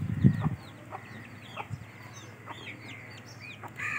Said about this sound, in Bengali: আমাদের ঘরের সর্বপ্রথম অ্যানিমেল হলো এই যে এই মুরগিটা, তার সাথে 5টা বাচ্চা